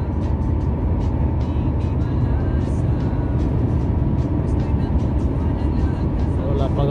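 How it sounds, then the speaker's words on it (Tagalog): Road traffic rolls past during a drive home from work, a continuous low rumble of engines and tires with intermittent clicks, heard steadily throughout with a voice faintly present. "Traffic."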